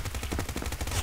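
Rapid automatic gunfire in the video game Combat Master, a steady stream of loud, evenly spaced shots rattling close by for about a second.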